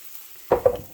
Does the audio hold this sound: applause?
no